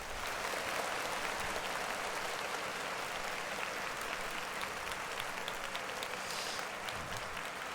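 A studio or live audience claps it up for a rapper, a thick, continuous roar of applause from many people that stays loud and steady from start to finish.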